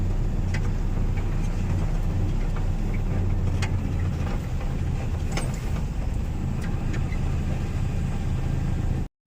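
Vehicles crawl and idle in a traffic jam on a rain-soaked road blocked by a fallen tree, a steady engine rumble with faint scattered clicks throughout.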